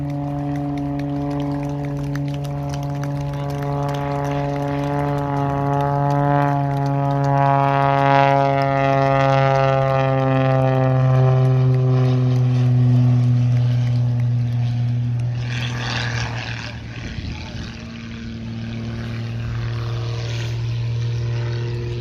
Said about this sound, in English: let's show our appreciation for the Muscle Pitts flown by Rich Goodwin.